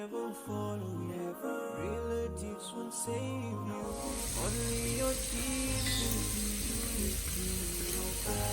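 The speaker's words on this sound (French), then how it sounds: "On peut à présent frire les crevettes et les gambas" Shrimp and prawns for a seafood boil hit a hot pan, and a broad sizzling hiss swells and stays constant under rhythmic background music.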